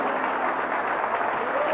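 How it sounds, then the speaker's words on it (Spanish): Church congregation applauding together during a Spanish-language sermon, a steady wash of clapping that holds evenly throughout without breaks. "Yo sé que le puede regalar un aplauso que sea fuerte a Cristo poderoso."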